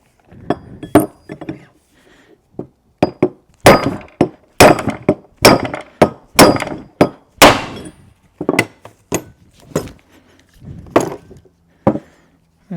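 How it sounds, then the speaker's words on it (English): A brass drift is struck with a hammer to drive a part out of a GM NP8/NP246 transfer case during teardown, sharp metallic blows in irregular clusters, some single and some rapid, loud and close with no talking. "All right, so we're going to take it out with a brass drift."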